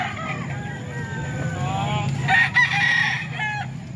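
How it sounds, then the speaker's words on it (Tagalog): Roosters crow and chickens cluck at a poultry market in Calumpit, Philippines, a noisy outdoor setting, with a steady low rumble of engine noise underneath. "Manok naman ito ni Kuya Bob mga ka-idol."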